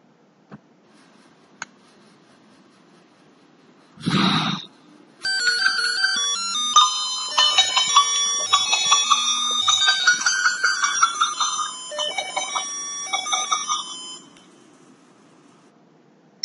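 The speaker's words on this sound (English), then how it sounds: "when I blowed the air in the mic, there were the pulse generated by the IC-NE555 and IC-UM66 generated the melody" A homemade breath-triggered secret bell circuit, built with NE555 and UM66 ICs driving a small loudspeaker, plays a bright electronic ringtone melody for about nine seconds after a short puff of breath on the microphone.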